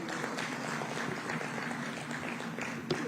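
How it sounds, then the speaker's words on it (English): An audience at a high-level economic growth forum applauds Dr. Musisi, giving steady, moderately loud clapping that fills the room evenly throughout, with a faint background hum and no distinct voices. "Another round of applause for Dr."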